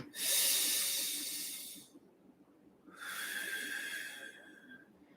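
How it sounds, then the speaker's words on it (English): Two long, deep breaths during a yoga pose, each a strong airy inhale or exhale lasting about two seconds and heard up close, separated by a brief quiet gap. "Take a breath here."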